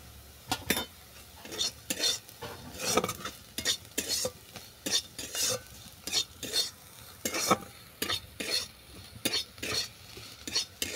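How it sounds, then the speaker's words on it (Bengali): Cumin powder stirred into fried Malabar spinach and mussels in a pan, a spoon scraping in a steady repeated rhythm of sharp strokes over a soft sizzle, close and fairly quiet. "জিরে গুঁড়ো দিয়ে ভালো করে মিশিয়ে এটাকে নামিয়ে নেব"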